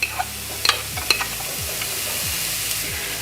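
Diced onions hit a pan sprayed with oil and start to fry, giving a soft steady sizzle with a few sharp clicks and scrapes of stirring near the start.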